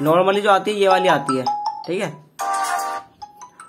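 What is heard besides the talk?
default phone ringtone playing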